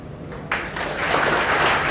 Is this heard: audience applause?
yes